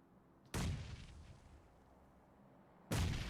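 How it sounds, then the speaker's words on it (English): Grenade detonations in a competitive shooter match: two loud, sudden booms, the first followed by a decaying rumble and the second cutting in near the end, with quiet ambience between. "Here goes a nade."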